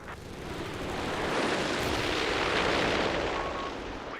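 Incendiary strike erupts in Company of Heroes 3, a loud rumbling explosion that swells into a sustained roaring burn lasting several seconds.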